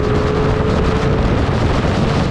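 A four-cylinder motorcycle roars past at close range, a loud, dense engine howl mixed with heavy wind rush through the whole short moment.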